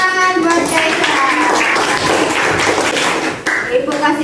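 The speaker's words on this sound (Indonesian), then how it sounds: "tepuk tangan buat Kaisan" Clapping from a class of pupils for a classmate, a burst of many hands applauding together at close range, with children's voices chattering through it.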